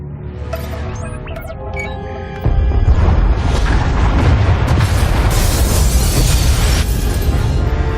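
Escape pod bays explode aboard a ship in Star Wars: The Old Republic, Knights of the Fallen Empire, with a tonal lead-in giving way to a huge, sustained roaring blast and rumbling, crackling debris that stays loud to the end.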